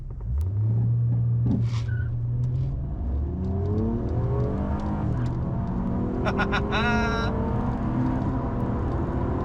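A 2017 Honda Accord V6 in sport mode revs up loudly, its engine tone climbing through rising sweeps as it accelerates, with people talking over the engine.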